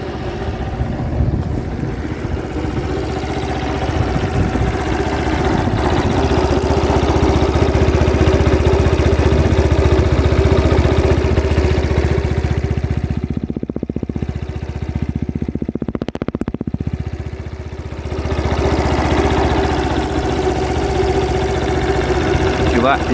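Peugeot Kisbee scooter with a four-stroke engine idling close by, a steady low mechanical drone with light clatter running throughout, dipping briefly midway before settling back to an even idle.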